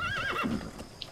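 A horse in Metal Gear Solid 5 lets out a loud, close, high whinny that wavers and falls over about a second, with hoof clip-clop mixed in.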